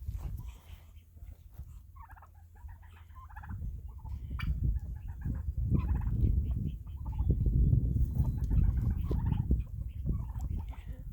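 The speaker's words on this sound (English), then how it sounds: "I enjoy listening to the turkeys make their little noise and talk." Turkeys, including a hen roosting in a tree, call at dawn outdoors with repeated gobbles and chattering notes over a steady low rumble, carrying on throughout without any talk.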